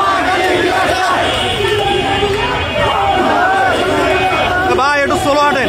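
Protesters chant slogans in a dense crowd at Shahbag during a demonstration, loud and continuous, with many overlapping voices shouting together close by.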